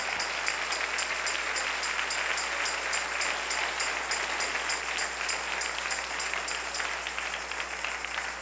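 A church congregation applauds steadily during a Sunday morning service, a broad wash of clapping that holds evenly throughout with no voices on top.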